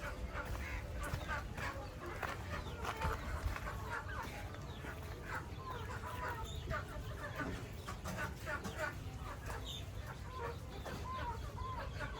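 A country rooster and other native fowl cluck and call in dense, overlapping bursts against a busy, noisy background for the whole stretch, fairly faint overall.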